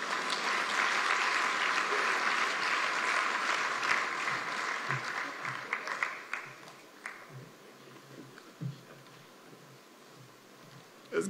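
An audience at the Kenya Innovation Week 2023 applauds, a dense, sustained clapping that starts full and gradually thins out over several seconds into scattered claps.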